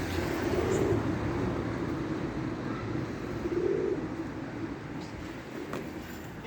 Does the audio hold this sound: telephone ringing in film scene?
no